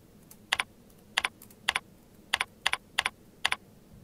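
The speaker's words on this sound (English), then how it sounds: "type in a title for your link" Computer keyboard keys tapped in short bursts of two or three quick clicks, spaced through a quiet stretch while a title for a link is entered; crisp, close and alone.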